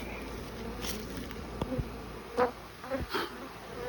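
Honeybees buzz in the air around a Layens hive during the hiving of a cutout, a steady swarm hum with several individual bees droning close past, no voices.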